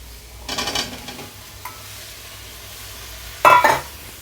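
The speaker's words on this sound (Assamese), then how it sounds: "এতিয়া আমি ইয়াতে চিকেনৰ টুকুৰাখিনি দি দিম।" Chicken pieces hit a hot pan for fried rice, giving two short loud sizzling bursts with stirring scrapes between them over a quiet low-flame background.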